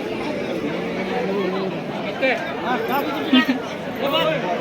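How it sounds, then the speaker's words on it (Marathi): A busy temple crowd fills the space with close, overlapping chatter, many voices talking at once in a steady hubbub with a few louder voices rising briefly. "आज गर्दी आहे थोडीशी"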